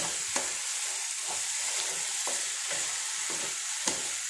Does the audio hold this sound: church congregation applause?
no